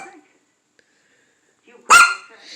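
A pet dog barks once, loud and close, indoors on a rainy day, following a moment of quiet and a faint murmur; a soft trailing vocal sound follows the bark.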